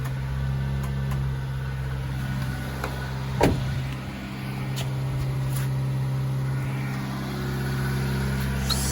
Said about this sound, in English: So you can see the truck is running